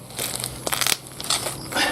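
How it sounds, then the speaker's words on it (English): Chunks of petrified wood boulder are broken apart, giving a close, gritty crunching and crackling of stone over two seconds with a few sharper cracks. "I'm breaking up big pieces today for something to do."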